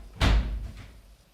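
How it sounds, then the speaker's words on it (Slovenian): A single heavy door slamming shut in a dramatized radio play, one sharp loud thud with a booming low-end tail that fades over about a second. "zaloputne z vrati"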